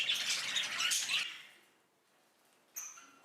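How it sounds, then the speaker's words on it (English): A pet budgie chirps in a bright burst of rapid, scratchy high notes for about a second, then goes quiet before a short final chirp. "Happy chirping with fluffy forehead."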